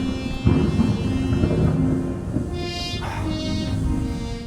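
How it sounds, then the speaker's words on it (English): Thunder from an approaching storm rolls as a low, continuous rumble, loud and unbroken for several seconds with no voices. "Looks like a storm's coming up."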